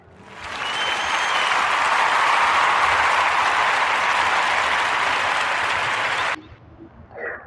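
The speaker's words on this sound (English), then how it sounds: "join me with giving Brother Price a narrative podcast round of applause" A crowd claps for Brother Price during a live podcast event, the applause swelling quickly, holding loud and even, then cutting off abruptly near the end, leaving faint room noise and a small stir.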